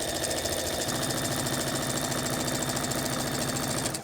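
Sewing machine stitching a pieced scrap quilt block, a steady close rapid chattering hum that runs unbroken for about four seconds.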